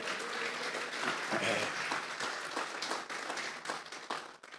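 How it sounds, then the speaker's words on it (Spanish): A church congregation claps steadily and enthusiastically as an offering to the Lord. The sustained applause fills the room, with some voices mixed in. "¿Por qué no le regalamos una ofrenda de palmas al Señor?"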